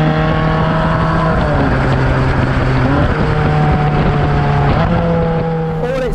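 A Ferrari 458 Spider engine revs loud and close, pulling hard through several upshifts, with its rising pitch dropping back at each gear change and a steady roar throughout.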